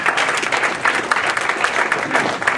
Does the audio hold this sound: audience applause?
yes